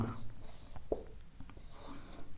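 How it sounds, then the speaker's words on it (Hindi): Chalk or a marker scratches and taps on a board as a teacher writes in a classroom lesson, close and fairly faint, with soft breaths and low background noise between strokes. "मैं दोबारा से लिख देता हूं"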